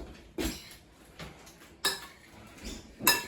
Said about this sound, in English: now we just gently want to stir that through using one of these stirring devices